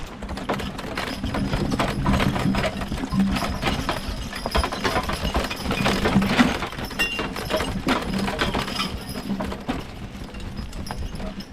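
Draft horses skid a 21-foot log uphill out of rocky woodland, giving a steady, fairly loud stretch of hoof clops, thuds and dragging scrapes with a low rumble underneath and no talking.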